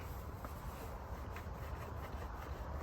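Steady rubbing and scrubbing of a Husqvarna FC450 off-road motorcycle wheel during a cleanup, a continuous close, low, textured friction with no pauses over the whole stretch.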